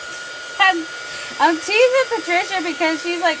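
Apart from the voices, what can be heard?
hair dryer blowing air on mixed media background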